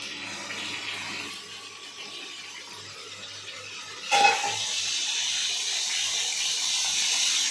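Tap water runs into a sink while fish is washed in a home kitchen, a steady hiss that swells louder partway through and keeps flowing, close and unaccompanied by speech.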